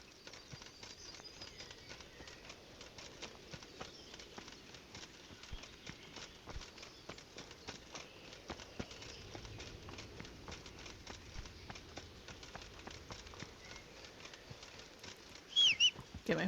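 Horse hooves clip-clop in a steady, quick rhythm on the ground near a castle in the medieval video game Kingdom Come Deliverance, faint and continuous, with a brief louder disturbance near the end.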